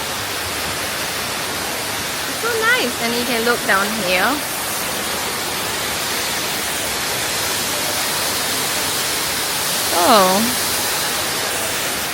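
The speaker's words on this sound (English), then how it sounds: "Look, there's a waterfall behind me." Steady, broad rushing roar of a waterfall at Gardens by the Bay, Singapore, running throughout at an even level, with a person talking briefly over it near the start and again later.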